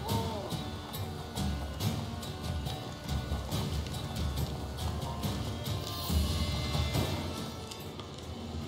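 Roach, a horse in The Witcher 3, gallops with steady rhythmic clip-clop hoofbeats over a busy game soundscape, moderately close and continuous throughout.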